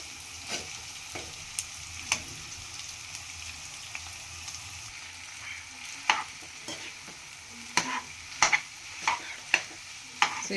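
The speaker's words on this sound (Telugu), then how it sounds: "అంత ఎగ్, వెజిటేబుల్స్ అన్నీ దీంట్లో మంచిగా కలిసేటట్టుగా బాగా కలుపుకోవాలా" Cooked Maggi noodles tossed and stirred with egg and vegetables in a pan, steady scraping and soft sizzling with irregular sharper clacks of the utensil against the pan, close and alone.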